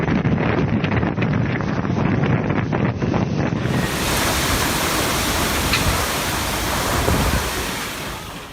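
Large storm-driven sea waves surge and crash along the English coast in a steady, loud roar, with heavy wind buffeting the microphone throughout and no voices.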